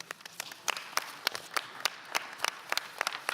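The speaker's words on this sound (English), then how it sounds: "Rounding applause." Scattered applause from delegates in an assembly hall at a parliamentary session, a quiet, thin patter of separate claps rather than a full ovation.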